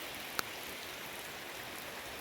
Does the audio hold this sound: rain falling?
yes